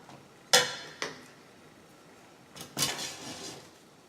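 An egg dosa in a pan is flipped: a sharp metallic clink, a lighter tap half a second later, then another scraping clatter against the pan after a pause, close and alone with no talk.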